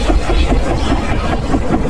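A lawn mower engine runs steadily at close range, a loud, rough low drone with a rapid pulsing throb and no pauses or voices.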